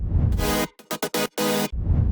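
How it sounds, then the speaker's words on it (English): Processed future house synth chords pulse in a choppy rhythm, a held chord, quick gated hits, then another long chord, with a soft low wash filling the edges. "With effect it sounds like this."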